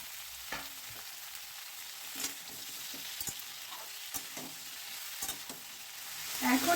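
Chopped radish and flat beans frying in a pan, giving a steady, faint sizzle punctuated by the scrape and clack of a spatula stirring the vegetables.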